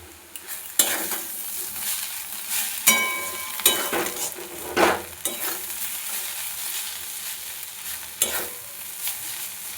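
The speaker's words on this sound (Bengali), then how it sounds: "আবারও লো টু হাই ফ্লেমে কিছুক্ষণ এটা নাড়তে থাকবো" Cauliflower filling for kachori stirred in a pan over a flame, with a low frying sizzle and repeated sharp scrapes and clinks of a spoon against the pan at irregular intervals.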